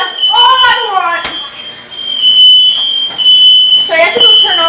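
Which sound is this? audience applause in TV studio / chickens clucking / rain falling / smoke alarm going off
smoke alarm going off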